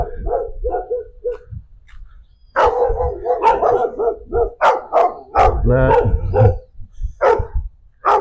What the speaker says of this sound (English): Hopefully, this dog is cool.